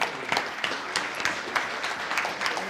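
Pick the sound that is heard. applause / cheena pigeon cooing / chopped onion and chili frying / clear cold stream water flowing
applause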